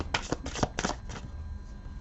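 Tarot cards with thin matte paper stock being shuffled in a few quick riffling bursts near the microphone, then fading into quiet room tone with no talking.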